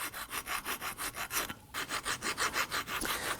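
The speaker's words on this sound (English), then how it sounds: "We're going to use a flat file to go ahead and clean out the rust that's inside here." A flat file rasps rust from inside a brake caliper bracket on a Nissan Murano in quick, rhythmic back-and-forth strokes, about five per second, with a brief pause midway before the scraping resumes.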